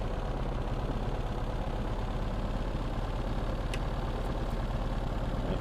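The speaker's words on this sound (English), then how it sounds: "Left engine is prime." A P-38 Lightning's left engine runs just after start in Microsoft Flight Simulator, a steady low idling drone with constant vibration and a faint brief click, no voices.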